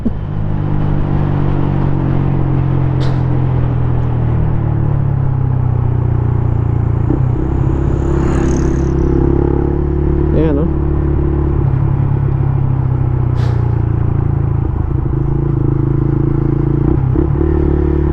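A motorcycle on a road ride through Aurora province, its engine droning steadily up close with shifts in revs and wind rush, and a few brief clatters.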